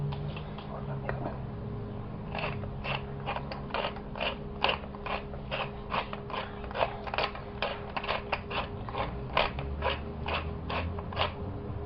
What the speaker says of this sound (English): So I just did about 20 grinds.